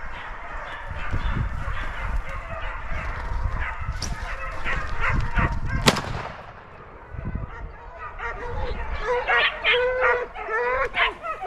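Pack of hunting dogs baying continuously during a wild boar hunt in the woods, loud and close, with a sharp gunshot cracking out midway before the barking resumes.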